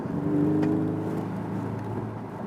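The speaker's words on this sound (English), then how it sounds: "Did you hear that from the exhaust behind me?" A Porsche 718 Boxster S cornering, its engine and exhaust giving a steady mid-level drone that swells briefly early on, then settles into a smooth, fading hum.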